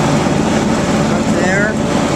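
A 2004 John Deere X575 lawn tractor engine revs in a loud, steady, close drone with a rough low rumble that holds throughout.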